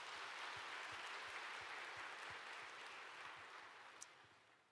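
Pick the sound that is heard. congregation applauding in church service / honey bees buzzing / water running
congregation applauding in church service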